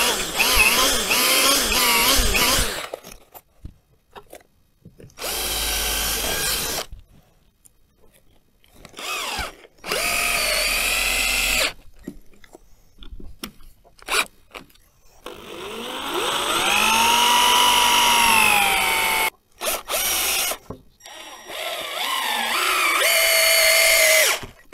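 Loud bursts from a power drill driving screws into a durable raised garden bed, whirring in several separate runs of a few seconds each with quiet pauses between them and short high-pitched spin-ups.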